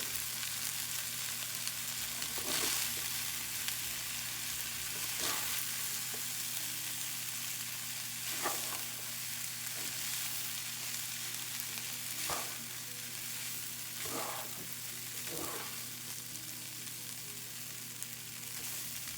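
Shrimp fried rice fries steadily in a pan, a constant sizzle running throughout with periodic scraping stir strokes every couple of seconds, fairly close and alone with no voices.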